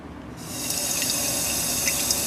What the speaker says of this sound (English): I stick the nozzle of the Bloxygen in there and give it a couple seconds